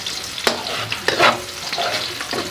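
Ginamos, a fermented fish paste from Leyte, is sautéed in a pan: a steady close sizzle broken by sharp scraping stirs of a utensil.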